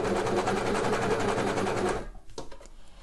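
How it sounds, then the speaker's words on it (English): A three-thread overlocker sewing machine runs fast and steady, overlocking a fabric seam allowance with a dense rhythmic whir for about two seconds, then stops, leaving a few faint clicks and handling noises. "I'm using 3 threads, and I'm just overlocking that seam allowance together"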